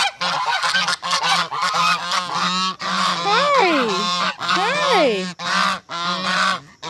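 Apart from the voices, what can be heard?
geese honking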